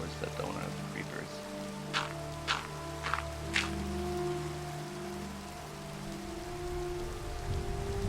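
Steady rain falling in Minecraft, a constant soft hiss with a few louder footstep-like taps and low background tones underneath.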